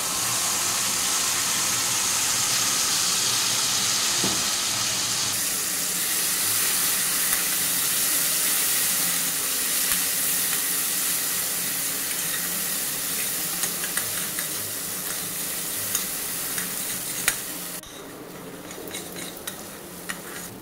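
Cashew, poppy seed and green chili paste frying in a pan with dried red chilies while being stirred, a steady loud sizzle and hiss throughout that drops away abruptly near the end.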